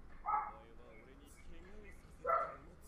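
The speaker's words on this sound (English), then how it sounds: "The neighbor's dog got out." A neighbor's dog gives two distant, muffled barks about two seconds apart, while faint talk murmurs in between.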